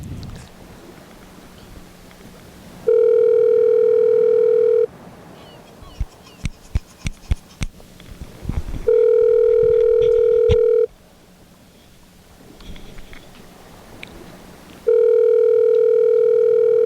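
Telephone at a McDonald's ringing on the line, repeated long electronic ring tones separated by pauses, with clicks and faint noise in the gaps.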